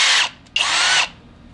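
A Kobalt 24-volt cordless drill whirs in two short close bursts, the first cut off briefly before the motor spins up again for about half a second and then stops.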